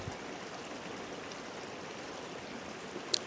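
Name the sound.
river flowing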